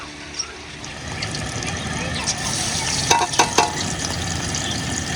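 Onions frying in hot ghee in a home kitchen pan, a steady broadband sizzle running throughout with a few sharper scrapes and clinks of stirring near the end, close and moderately loud.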